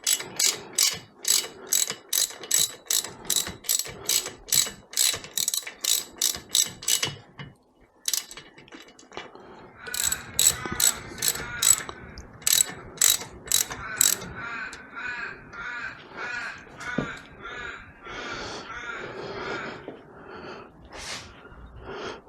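A wrench snugs down the cylinder head bolts on a BSA motorcycle during a rebuild, giving quick runs of sharp ratcheting clicks in two bursts separated by a short pause, close and clear.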